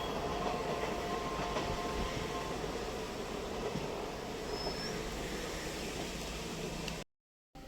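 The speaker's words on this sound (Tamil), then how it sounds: "ட்ரெயின் வந்தது இந்த ரயில் பாலத்தில் தான்." A train rumbles across a railway bridge with a continuous heavy roar and rhythmic clatter of wagons, loud and close for several seconds before cutting off abruptly.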